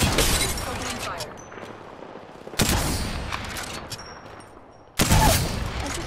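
Gunfire from a match of the video game Apex Legends, with three loud bursts of shots at the start, near the middle and toward the end, separated by quieter stretches of game sound.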